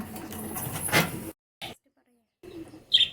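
A pigeon coos softly nearby, broken by short gaps of near silence, with a brief sharper chirp at the end; a voice is faintly present.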